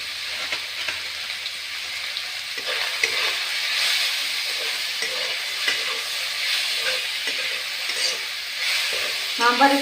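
Masala frying in oil for chicken biryani, a steady close sizzle and crackle with soft stirring scrapes, with sharper clatter toward the end.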